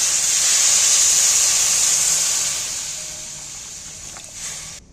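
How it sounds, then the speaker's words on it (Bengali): Water poured into a pan of hot frying oil with onion and green chili gives a loud, steady steam hiss that slowly fades over several seconds. "এইবার আমি জল দিয়ে দিচ্ছি"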